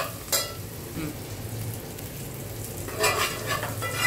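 Chopped coriander is stirred into hot tempering oil for a Vidarbha-style capsicum (bell pepper) vegetable dish, with a steady close sizzle and a few sharper spatters and stirring scrapes near the start and end.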